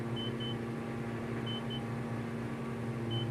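In Microsoft Flight Simulator, a cockpit warning beep sounds in short repeated pairs of thin tones over a steady loud engine drone, heard alone without talking.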